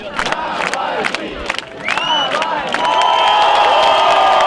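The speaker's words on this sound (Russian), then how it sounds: "На Ярославском вокзале их встречала толпа восторженных поклонников." A crowd of enthusiastic supporters at Yaroslavsky railway station in Moscow cheers and shouts loudly, with whoops and whistles. The noise swells into a sustained, dense roar by the end.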